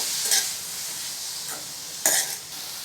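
Grated beetroot sautéing in hot oil in a pan, a soft steady sizzle broken by a few brief scraping bursts as it is stirred, with no one talking.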